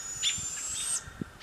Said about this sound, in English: Are they barred owls?